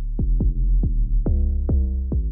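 Out-of-tune 808 bass in a beat, six booming notes with sliding pitch attacks and long humming tails, loud and alone in a steady rhythm.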